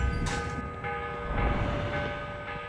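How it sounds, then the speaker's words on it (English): A morning bell in the video game Assassin's Creed Revelations, a ringing tone with long sustained overtones that decays slowly, with a fresh strike partway through, fairly loud and alone with no talking. "The morning bell."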